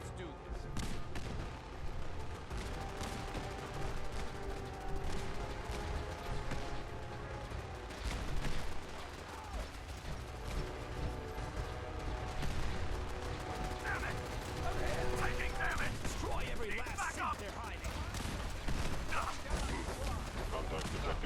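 A battle at Bunker Hill in Fallout 4, rattling gunfire and bursts of automatic fire crackling steadily over rumbling background noise, with shouted voices mixed in.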